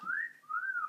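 A man lets out a short two-part whistle, a rising note followed by a second gliding tone, clear and fairly quiet in an otherwise silent space.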